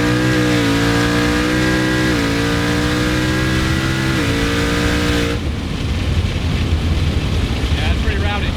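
A twin-turbo Ford Coyote V8 car making over 1,200 horsepower roars at high revs, a loud sustained engine note stepping through pitch shifts, then giving way to a rougher, broader rumble.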